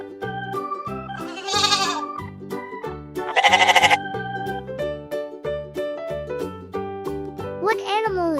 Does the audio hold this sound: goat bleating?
yes